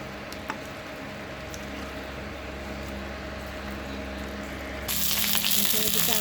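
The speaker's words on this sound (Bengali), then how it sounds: "আলু করে ভাজা হচ্ছে" Potatoes frying in oil in a home kitchen, a close, steady sizzle running throughout that suddenly grows louder and brighter near the end, with no one speaking.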